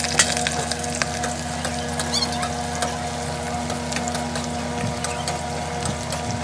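Oil sizzles in a pan as chicken cooks, a steady crackling hiss with scattered sharp pops and clicks close by.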